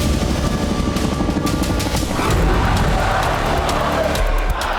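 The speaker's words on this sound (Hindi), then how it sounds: "इंटरनेशनल कोलिशन के हेलीकॉप्टर उड़ान भरते देखे जा सकते हैं" International coalition military helicopters flying over the Syria–Jordan and Iran–Syria border area, a loud continuous rotor and engine roar with a rhythmic chopping pulse and no speech.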